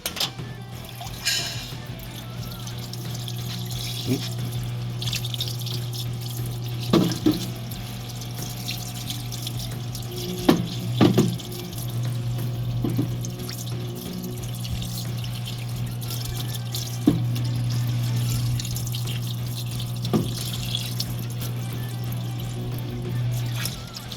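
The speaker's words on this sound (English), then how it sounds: "I'm going to use my dad's parts washer here to rinse this thing off" Water from a parts washer rinses a minibike part in a steady, close running-water stream, with a few brief clanks and splashes from the part being moved under the flow.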